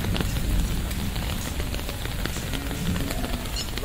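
Rain falls on a rainy day in Sindh, a dense, steady hiss and patter with scattered close taps on surfaces, continuous and fairly loud throughout.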